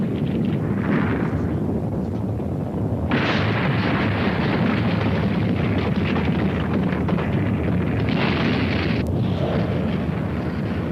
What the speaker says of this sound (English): earth-shaking earthquakes crack and upheave the ground